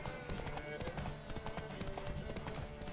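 Horse hooves clip-clop steadily during a race to a tower in The Witcher 3: Wild Hunt, a fairly quiet rhythmic thudding under dense game ambience and music.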